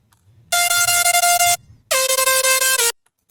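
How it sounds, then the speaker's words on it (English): A harsh FM synthesizer layer using a patch called FM Nasty, part of a distorted Dariacore-style bass sound, plays two sustained buzzy tones of about a second each, loud and alone with a short gap between them. "Then lastly, we have this FM layer"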